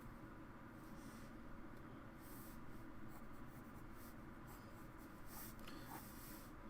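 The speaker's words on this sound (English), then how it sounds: "So you guys can actually see what I'm sketching now." A regular lead pencil sketches on paper in quiet, continuous scratching strokes over a steady low background hum.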